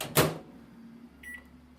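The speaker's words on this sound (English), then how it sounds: "And we going to the microwave to melt it." Kitchen microwave oven melting butter and chocolate in a bowl: a sharp door or button clunk, then a steady low hum with a short electronic beep as it starts.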